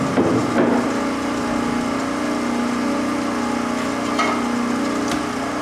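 Tube bending machine with wrinkle die tooling bending very thin-wall 059 stainless steel tube, a steady mechanical hum and drone held at even level with faint clicks, no talking.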